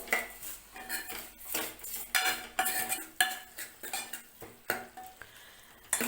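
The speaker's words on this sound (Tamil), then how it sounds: "தக்காளி கொஞ்சம் சீக்கிரமாக வதங்கிரும்." Tomatoes sautéing in a pan for a side dish served with idli and dosa, with a spoon scraping and clinking against metal in a steady stirring rhythm over a soft sizzle, close and alone with no talking.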